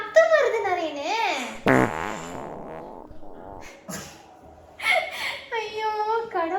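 A prank fart sound plays in a home setting, a brief wet burst near the middle among bursts of childlike, squeaky voice sounds and chatter; people talk around it.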